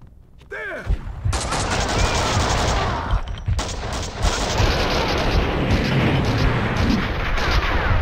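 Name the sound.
gunshots in the video game Max Payne 2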